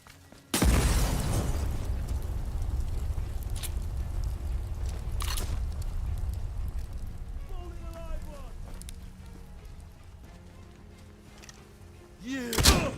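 A bomb detonates in Atomfall, a post-apocalyptic game, with a sharp loud blast followed by a long rumbling decay and debris crackle, a smaller thump at the end, and voices speaking over it.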